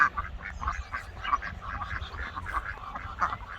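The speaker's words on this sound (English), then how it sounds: "Here's the ducks." Ducks quack repeatedly on a farm, a steady run of nasal calls at moderate distance with a low rumble of background noise beneath.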